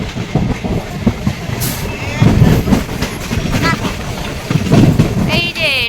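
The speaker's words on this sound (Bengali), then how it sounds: "এই যে স্টেশনের দিকে ঢুকছে ট্রেন" A train rolls into Ranaghat station, with a rumbling, rhythmic clatter of wheels over the rails, heard up close, and a thin squeal of metal near the end.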